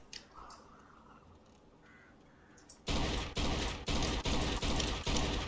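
A series of loud gunshots in the Mafia 2 video game arrives in quick separate bursts after a quiet stretch of faint mechanical clicks and background ambience.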